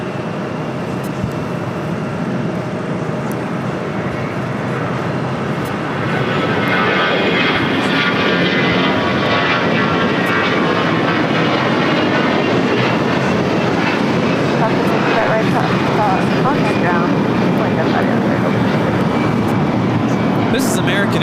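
An American Airlines A321 jet takes off from LAX bound for Las Vegas, its engine roar building after a few seconds into a loud, sustained rumbling whine.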